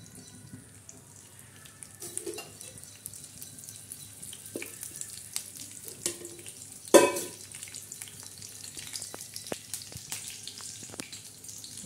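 Curry leaves and garlic dropped into hot oil for tempering, a low steady sizzle with scattered scrapes and clinks and one sudden louder crackling burst partway through, no voices.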